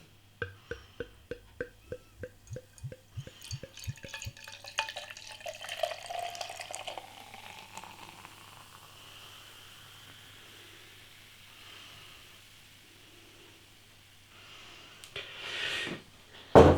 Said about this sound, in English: I gave it a bit of a rigorous pour.